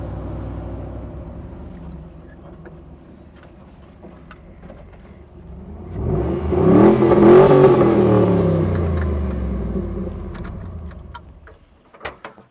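A 5.3 LS V8 Jeep YJ on 37-inch radial tires driving past on a test drive, its engine note swelling loud and rumbling near the middle, then easing off, with a few sharp clicks near the end.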